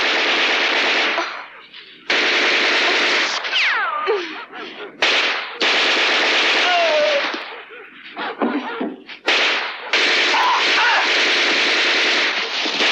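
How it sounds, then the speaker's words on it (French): A machine gun fires in sustained loud bursts in a French-dubbed war film, with dense crackling rattle broken by short pauses and abrupt restarts, mixed with shouts and other battle noise. "Prends la mitraillette."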